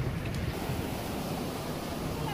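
A canal's rushing water gives a constant broadband roar, dense and steady throughout without pauses, heard close and fairly faint.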